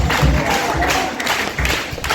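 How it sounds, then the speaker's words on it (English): Congregation clapping hands during a church funeral service, a loud busy patter of many hands with rhythmic swells, ringing in a reverberant room with no clear talk on top. "Come on, clap those hands and give the Lord a praise."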